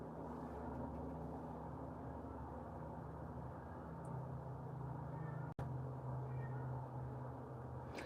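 A cat meows indoors, its cries fairly faint against a steady low hum, with one sharp click midway and no talking.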